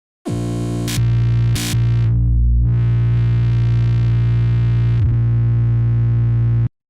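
Saturated, distorted synth bass held on a granular setting that bypasses the lo-fi stage, a loud sustained buzzing drone with brief bright bursts near the start and a pitch dip midway, no talk.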